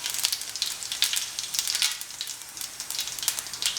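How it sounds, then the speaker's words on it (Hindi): A teaspoon of cumin seeds crackles in hot oil in a copper vessel, making a bright, busy sizzle with rapid popping spikes, close and steady with no talking. "तेल हमारा बढ़िया गर्म हो गया है और ये जो हमारा जीरा है 1 टीस्पून हम जीरा डाल रहे हैं।"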